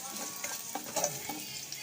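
Garlic sizzles in a pan for squid adobo while a utensil stirs it, a soft steady frying hiss with a few light scrapes and taps, close and quiet.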